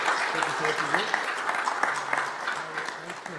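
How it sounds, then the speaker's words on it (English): Applause from a city council meeting audience, moderately faint and steady for about three seconds, with people's voices talking over the clapping. "big round of applause for Mr. L'Hopital"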